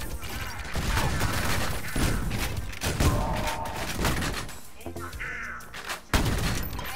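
Gunfire and grenade blasts from the retro shooter Ion Maiden, with dense, punchy bursts of shots and heavy thuds following each other closely at a loud, near level, with a brief dip partway through.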